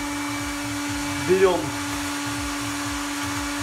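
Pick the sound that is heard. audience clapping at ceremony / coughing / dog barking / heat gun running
heat gun running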